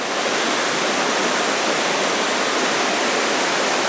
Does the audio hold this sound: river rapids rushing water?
yes